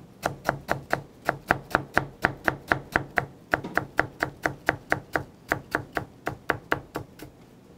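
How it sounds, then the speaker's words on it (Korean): A knife julienning pear on a cutting board in a steady, even rhythm of sharp taps, about three per second, close and clear, with no talking. "먼저 이렇게 해서 편썰기한 후 곱게 채 썰어 주도록 하겠습니다."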